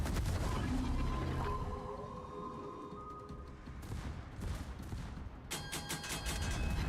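Secondary guns firing from a warship in World of Warships, a loud run of rapid shots and heavier booms blending into a dense barrage, with sharp cracking volleys near the end.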